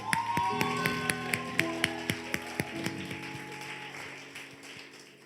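A church congregation claps in praise to God during a Sunday service, a faint, moderately paced run of distinct claps under a sustained musical tone that fades toward the end.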